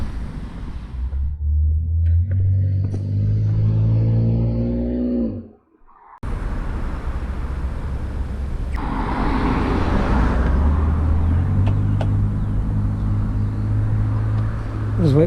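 Cars rumble and pass along a road at a crossing beside a park trail in Hamilton, with engines droning continuously and one vehicle revving up; voices talk intermittently over the steady traffic.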